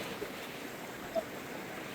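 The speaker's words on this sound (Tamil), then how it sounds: "ஃபுல்லா தண்ணி வந்து கொண்டு இருக்குது" Floodwater rushes past houses in a steady, moderate whooshing wash with a brief louder splash, heard continuously without talk.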